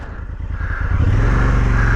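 A Honda Africa Twin motorcycle engine rises from a low throb to a steady loud drone as the bike turns around on a muddy logging road, close and continuous with no talking.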